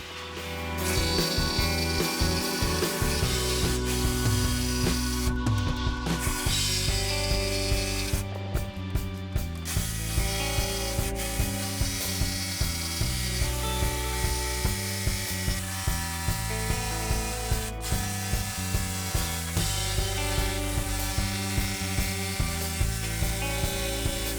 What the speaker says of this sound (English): So then I sanded the curves smooth with a belt sander and a random orbit sander